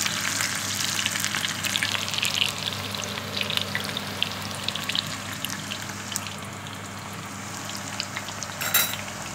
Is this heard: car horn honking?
no